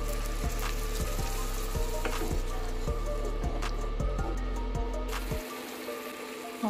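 Chilies sautéing in a little oil as water is poured in, giving a steady, close sizzling hiss with occasional crackles and pops that cuts off abruptly near the end.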